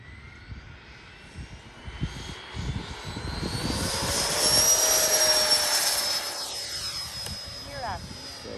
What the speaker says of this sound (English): let's get this F-5 in the air and put it through some paces